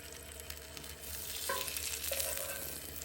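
Sausage and pancakes frying on a pan at a cold campsite, a steady close sizzle with some stirring and scraping, brief utensil touches partway through, and no talk.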